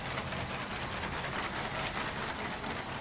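A LEGO toy train runs steadily around its track, giving a continuous faint whirring and rumbling with no talk over it.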